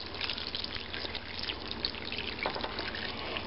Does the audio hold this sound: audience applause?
no